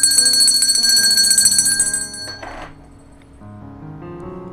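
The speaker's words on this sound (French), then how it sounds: "Coup de cloche pour la police nationale." A bell rings loudly with bright, sustained metallic tones for about two seconds, then a brief burst of noise, followed by quieter lingering ringing.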